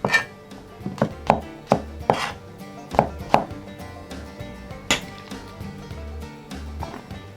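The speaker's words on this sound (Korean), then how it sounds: "토마토는 그냥 적당하게 썰어주세요" A knife chops tomatoes on a cutting board while preparing laghman noodles: a series of sharp, close chops in an uneven rhythm over a steady musical background.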